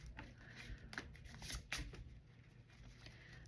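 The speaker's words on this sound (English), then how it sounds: "I'm going to shuffle this really, really, really well." Oracle cards being shuffled at close range, a soft continuous riffling and papery rustle lasting a few seconds with brief louder snaps, no talk over it.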